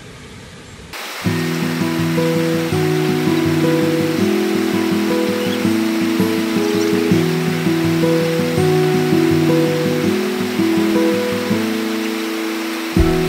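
Siocon waterfall in Zamboanga del Norte pours with a steady, broad rushing hiss that runs the whole time beneath a stepping, melodic music track.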